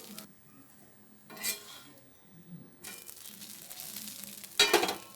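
A pearl millet dosa crisps on a hot pan with soft, faint sizzling, broken by a few scraping and clinking touches of a utensil against the pan, close and quiet with no talk.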